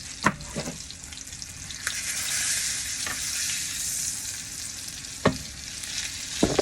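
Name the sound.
salmon searing in a pan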